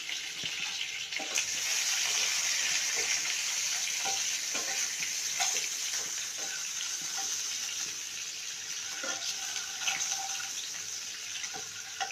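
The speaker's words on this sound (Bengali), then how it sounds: "এবার আমি একটু ডিমটা ভেজে নেব" An egg fries in a pan in a home kitchen after an ash gourd stir-fry, giving off a steady, close hiss of sizzling oil with occasional crackles and pops throughout.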